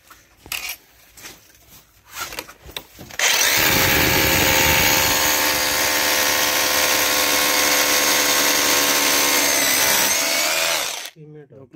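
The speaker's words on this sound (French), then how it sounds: "J'ai une perceuse et j'ai mis la mèche de 6." A power drill fitted with a 6 mm bit bores into a cast iron pipe joint, a loud steady whine with grinding running about eight seconds without a break, after a few scattered knocks and handling sounds.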